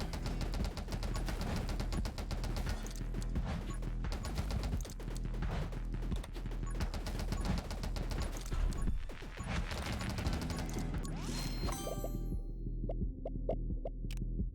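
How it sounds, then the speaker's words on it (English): Flame cannon in 20 Minutes Till Dawn firing at a fast rate, a dense throbbing barrage of rapid pulses with game effects layered on top, thinning to scattered hits at the end. "this flame cannon has a pretty fast rate of fire"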